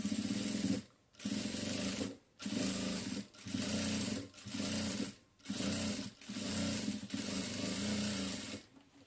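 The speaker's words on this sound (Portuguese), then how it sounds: "Agora, então, eu vou passar uma costura de pesponto aqui por cima também." A sewing machine topstitches a small pouch made from denim jeans hems, running in about eight steady, loud bursts split by short pauses.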